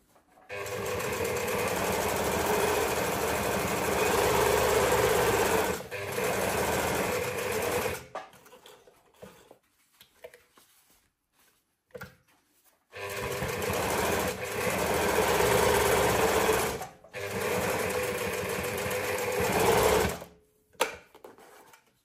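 A sewing machine stitches felt bag lining in loud, sustained runs of several seconds each, broken by pauses filled with faint handling noises and fabric rustle.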